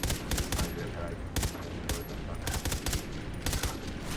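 Bursts of automatic gunfire from the shooter game Far Cry 3 Blood Dragon come in rapid, loud volleys separated by short pauses, with a scattered rattle of shots running between them and no talking.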